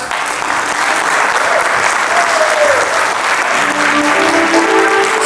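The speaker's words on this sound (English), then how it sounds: "So can we have a big round of applause for the musicians?" Audience at an interactive session gives the musicians a big round of applause, steady dense clapping filling the whole stretch at full loudness, with a few faint voices mixed in near the end.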